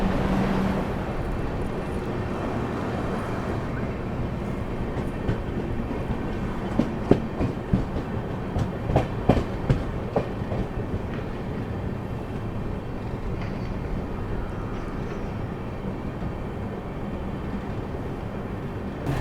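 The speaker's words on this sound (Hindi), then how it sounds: "ट्रेन अपनी जो है सेंट्रल की ओर बढ़ रही" Vikramshila Express passenger train (12368, Anand Vihar to Bhagalpur) rolling on rails, heard from on board as a continuous rumble with clusters of sharp wheel clicks and clanks over joints, no voices.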